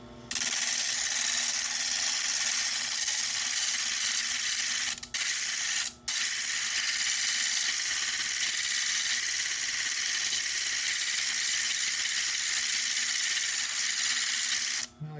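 Jasper stone ground on an All-U-Need flat lap gives a steady, close whirring hiss with a faint gritty rasp, broken by two brief dropouts.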